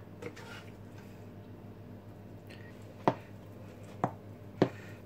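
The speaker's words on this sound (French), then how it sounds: "je vais juste gratter grossièrement, hacher grossièrement" Knife chopping vegetables coarsely on a board for an Algerian salade mechouia, three sharp separate chops spaced about a second apart over a low, steady kitchen background.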